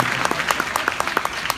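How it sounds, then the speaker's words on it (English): Audience applause at a convention panel for Paul Bettany at Wizard World Chicago 2017, a steady burst of many hands clapping in a large hall, fairly close and continuous for its short length. "Round of applause, please."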